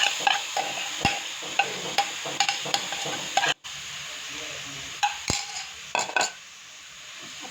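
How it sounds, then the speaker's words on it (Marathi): A spoon stirs a jaggery mixture cooking in a pan, with repeated close metallic scrapes and clinks against the pan over a soft background sizzle and one brief pause. "आता आपण हे फक्त गूळ त्याच्यामध्ये मिक्स तोपर्यंत 5 मिनटं बरोबर शिजवणार आहोत."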